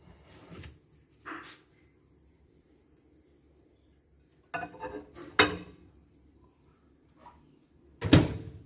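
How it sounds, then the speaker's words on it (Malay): A few scattered kitchen clatters and knocks as a bowl is put into a microwave, with quiet gaps between, ending in a sharper clunk of the microwave door shutting; no talking. "Okey, dah kacau-kacau tadi kita masukkan dalam microwave"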